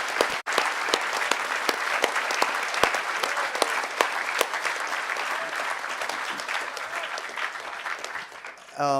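A crowd applauds steadily for several seconds at a conference closing ceremony, dense clapping filling the room at an even, sustained level before it begins to thin out at the end.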